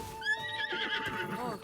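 A horse in Zelda: Tears of the Kingdom gives a loud, close, rising-then-falling whinny lasting over a second. A voice talks faintly beneath it.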